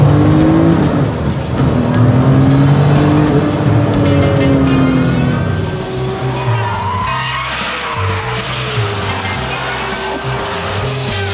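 A Ruf Yellowbird driven hard at the Nürburgring with smoke pouring from its tyres: a loud, close engine climbs and falls through revs over continuous tyre squeal and skidding.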